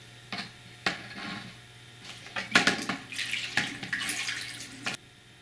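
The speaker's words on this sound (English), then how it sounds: "I'll start the new tank using only water from the old tank" Water from an old aquarium is poured into a new white Fluval Spec V five-gallon tank, giving bursts of splashing and running water with clinks and knocks of handling between pours, close by and with no talk.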